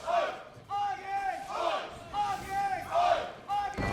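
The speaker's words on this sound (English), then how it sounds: "The crowd feeling it." A large arena crowd at a professional League of Legends esports match, Schalke 04 against Splyce, chants and roars in loud rhythmic waves, several surges rising and falling over a few seconds, with no clear talk over it.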